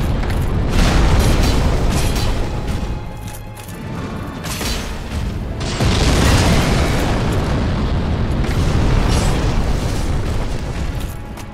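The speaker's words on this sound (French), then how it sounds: "Le géant balançait des grenades jusqu'ici." Heavy grenade explosions from a giant in Dark Souls 1 Remastered at Anor Londo boom and roll continuously, loud rumbling blasts overlapping for the full stretch with a fresh burst about halfway through.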